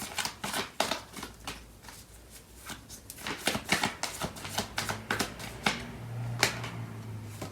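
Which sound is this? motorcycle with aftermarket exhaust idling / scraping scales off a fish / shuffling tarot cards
shuffling tarot cards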